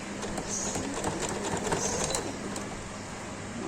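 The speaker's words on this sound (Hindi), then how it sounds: "बैक स्टिच करके मैं इसको पक्का कर लूँगी" A sewing machine runs continuously at a steady whir, back-stitching a seam on a baby girl's frock for a one-to-one-and-a-half-year-old, close and even with a faint rattling texture throughout.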